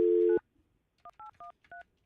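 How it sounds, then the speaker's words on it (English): Touch-tone telephone dialing while calling a house phone: a loud steady tone cuts off, then four short, evenly spaced dual-tone beeps play clearly with no talk. "I'm trying to call the house phone here"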